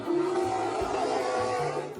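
Large forest bear producing a continuous low, throaty roar with a rough, rumbling texture, steady and close for about two seconds before easing off slightly at the end.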